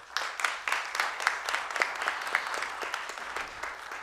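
A crowd applauding at a formal ceremonial session with steady, moderately loud clapping that carries on throughout without any talking.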